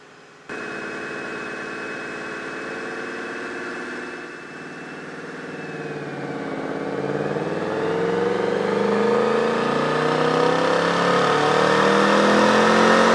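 A 2024 Mustang GT with a 5.0L V8 and 10-speed automatic on a dyno, loud engine drone rising steadily in pitch as it pulls through the gears, with a brief dip in between, close and continuous.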